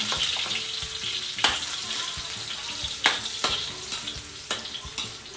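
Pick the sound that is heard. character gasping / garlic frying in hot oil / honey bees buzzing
garlic frying in hot oil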